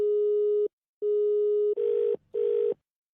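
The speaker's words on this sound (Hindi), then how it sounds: "नंबर मिला रहा है भाई बार-बार" Telephone tones over the line while a number is dialed: two long steady beeps, then two shorter buzzier tones, with brief silent gaps between.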